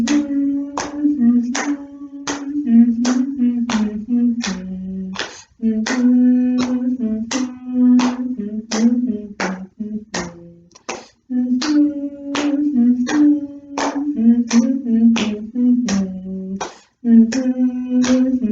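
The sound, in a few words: slap clap rhythm with humming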